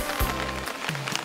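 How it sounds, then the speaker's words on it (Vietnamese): Heavy, unrelenting rain pours down during floods in central Vietnam, a dense, close hiss of water on surfaces with a few brief low knocks and a faint hum underneath. "những cơn mưa xối xả không ngừng"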